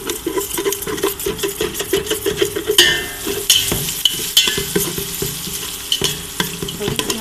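Spices and grated coconut powder cook in a pan for a vegetable curry of potato and pointed gourd, with a continuous sizzle and repeated scraping stirs of a spoon against the pan, close and busy.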